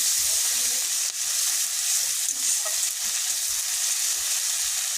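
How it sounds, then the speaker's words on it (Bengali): Chopped onion, tomato and green chilli with salt being sautéed in a pan, a bright, steady sizzle with soft stirring scrapes throughout and no talking. "পেঁয়াজ কুচো টমেটো কুচো আর লঙ্কা কাটা কাঁচা লঙ্কা এবার দিয়ে দিলাম লবণ এগুলোকে কষাবো"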